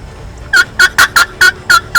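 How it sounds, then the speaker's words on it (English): A wild turkey gobbles in a fast burst of seven rattling calls, loud and fairly close, against a quiet outdoor background. "There he is right there. He's gobbling, he's cutting me off every time."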